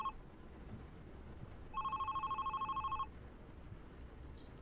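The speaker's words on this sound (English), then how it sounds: "Should I pick up the phone?" Electronic telephone ring in a bartending mystery video game: one clear, rapidly pulsing warble lasting just over a second, near and moderately loud over a faint hum, with a brief beep before it.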